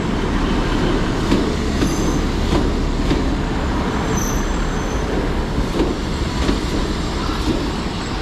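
A train moves through Exeter St Davids station, a steady heavy rumble of railcars with rhythmic wheel clatter and faint high squeals from the wheels, loud and close throughout.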